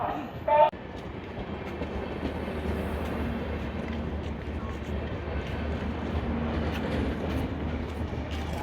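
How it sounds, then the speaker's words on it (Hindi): A passenger train at Visakhapatnam station rumbles steadily with a low continuous roar, after a brief sharp tone at the start, and faint voices underneath. "Visakhapatnam express platform number 8"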